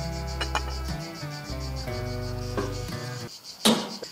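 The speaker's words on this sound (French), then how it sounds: "on profite un petit peu des cigales" Cicadas drone outdoors beside a barbecue where pork shoulder is cooking, a loud buzzing chorus with pulsing, stepped tones that stops near the end, followed by a sharp knock.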